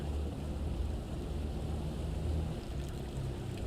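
A fishing boat engine in a video game idles near a fish farm. It gives off a steady, low droning rumble with a faint wash of water, alone and without voices.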